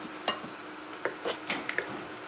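A spoon stirs a vegan dip in a pot, making sparse, quiet clinks and scrapes against the pot at an uneven rhythm over a low background hiss.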